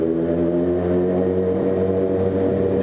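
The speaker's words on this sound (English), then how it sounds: "I love how my bike sounds in these close quarters." Motorcycle engine idling and rumbling steadily at close range in an enclosed car park, its harmonic drone reflecting off nearby walls throughout, no talk.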